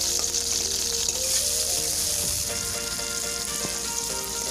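Chopped onions and green chillies fry in oil with panch phoron, giving a steady close hiss and sizzle throughout, with a few faint scraping stirs and no talking.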